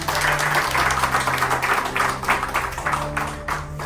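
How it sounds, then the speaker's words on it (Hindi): Steady clapping from a room of students on the last day of a phone repair training course, even and sustained throughout with a faint electrical hum underneath. "एक बार जोरदार ताली हो जाए अपने लिए।"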